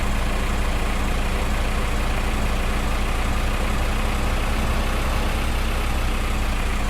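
Steady idle of a tractor's diesel engine in the farming game Farming Simulator 2015: a constant low throb and hum, close and loud, unbroken for the whole stretch, with no voices over it.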